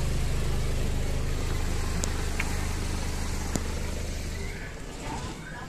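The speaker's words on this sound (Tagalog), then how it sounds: "Ayan, si Biot ang nag-drive" A car engine runs steadily as someone drives, a continuous low hum with road noise and a faint click or two, fairly close and even, with no talk.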